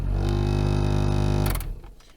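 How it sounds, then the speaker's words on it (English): A noisy blower motor fan in a 2004 Toyota Tacoma gives off a loud, steady droning hum with a rough, buzzing tone that runs for about a second and a half, then cuts off and fades out. "if you've got a blower motor that sounds like this"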